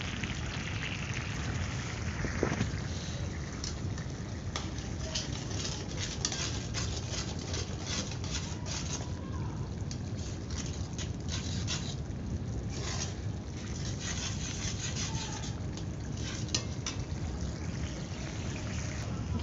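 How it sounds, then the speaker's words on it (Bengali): Curry gravy for a Bengali mustard-poppy seed fish dish boils hard in a pan, giving a steady close bubbling and popping patter with no pauses. "ঝোলটা টকবক টকবক করে ফুটে গেছে"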